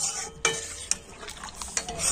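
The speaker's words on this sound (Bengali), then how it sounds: "গুঁড়ো দুধটা তো লিকুইড দুধের সাথে কিন্তু খুব ভালো করে গুলে নিচ্ছি।" A spoon stirs powdered milk into liquid milk, scraping and swishing steadily against the container, with several sharp metallic clinks at irregular moments.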